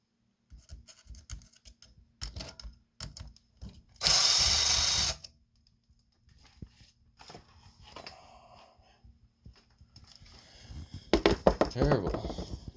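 A power driver whirs in one loud burst of about a second while backing a screw out of the rear axle of a Traxxas TRX4 RC truck, amid clicks and handling noises, with a person talking.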